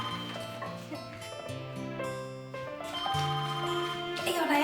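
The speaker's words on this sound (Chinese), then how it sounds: "歹势，我电话。" A telephone rings with a melodic electronic ringtone, a sequence of clear sustained tones playing for several seconds at moderate loudness, growing a little busier at the close.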